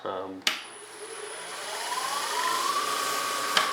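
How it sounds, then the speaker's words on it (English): An orbital sander used on wood turned on a lathe whirs steadily with a rising whine that settles into a constant hum, a sharp click at the start and a tap near the end. "inexpensive little sanding device that really kind of helps"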